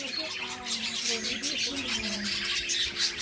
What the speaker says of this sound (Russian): здесь попугайчики